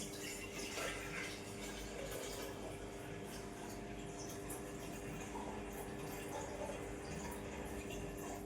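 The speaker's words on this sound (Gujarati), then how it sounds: "તો હું એક લીટર પાણી લઈશ" One litre of water being poured for a buttermilk-and-jaggery farm mixture, a steady continuous splashing rush with dripping texture, moderately loud and unbroken, with no talk over it.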